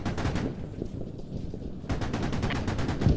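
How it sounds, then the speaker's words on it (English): Gunfire in the military shooter game Squad rattles in dense automatic bursts, loud and continuous, with a sharper volley of rapid shots starting midway. "He's shooting, he's right in front of us."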